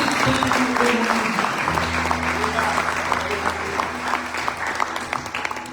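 A church congregation breaks into loud, sustained applause, dense and steady throughout, with a preacher's voice and a low musical drone underneath.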